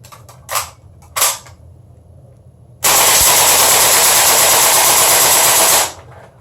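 Gas blowback BB gun firing: a couple of brief sharp clicks or pops, then a loud continuous burst of rapid full-auto shots lasting about three seconds before cutting off, close and alone.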